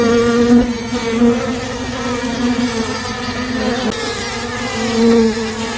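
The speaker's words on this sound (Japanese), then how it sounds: "金両片の白花にニホンミツバチが集まっています。" Japanese honeybees swarm over white kinryohen orchid flowers, a steady, close, continuous buzz of many wings with a droning hum rising and falling slightly, no voices.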